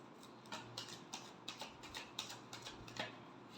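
Tarot cards being shuffled by hand, giving a quick run of soft, crisp riffling flicks at a steady rhythm, close and fairly quiet over a low background hum.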